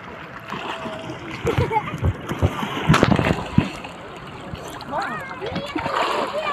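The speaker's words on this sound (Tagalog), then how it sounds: "Ang alon." Sea waves splash and wash along the shore at Agno, Pangasinan, in a loud, irregular series of surges, with people talking and calling out nearby throughout.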